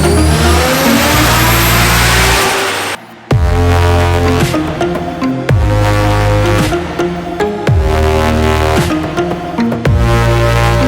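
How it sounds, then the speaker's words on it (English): A Subaru Impreza GC8 with a semi-equal length exhaust manifold revs hard on a dyno, loud and close, its pitch climbing in repeated sweeps after a brief cut near the start. "Put my GC8 on the dyno here."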